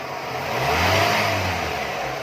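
A Lada Niva 1.7i engine runs and revs up, its low mid-pitched drone swelling to a peak and easing back over a couple of seconds, close and steady with no voices.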